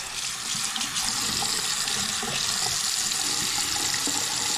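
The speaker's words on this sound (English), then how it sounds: "Draining real nice, real fast." Water pours steadily into a sink and runs down a newly installed drain pipe, a close, constant rushing flow that fills the whole stretch with no voices.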